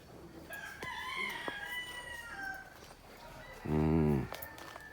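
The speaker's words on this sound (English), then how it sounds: "The rooster them make nice in the early morning now." A rooster crows once, loud and fairly close, in the early morning in Jamaica, after a stretch of quieter bird chirps and soft background noise.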